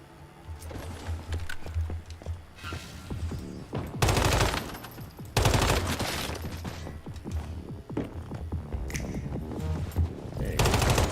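Repeated bursts of gunfire in the shooter game Once Human, loud and close, the rapid cracks coming in short clustered volleys with brief gaps between them and no talk.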